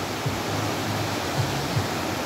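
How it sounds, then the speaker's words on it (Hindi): Mountain runoff rushing downhill near Nainital, a steady broadband wash of flowing water with a few faint low tonal bursts underneath, constant and moderately loud throughout. "ये देखो ऊपर से पहाड़ों से पानी आ रहा है यार"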